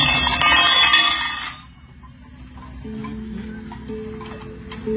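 A temple bell at Auroville in Pondicherry rings in a few clear metallic strikes whose tones ring on, following a bright burst of shimmering metallic sound that fades out early; moderately loud with no talk.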